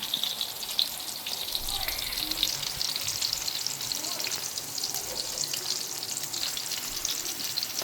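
Fapsa fish curry sizzles and fries steadily in a pan, a dense, even crackle with faint stirring, heard close and unbroken with no talk.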